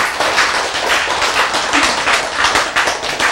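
A lecture audience breaks into steady applause, a dense continuous patter of many hands clapping at a moderate-close distance with no talk over it.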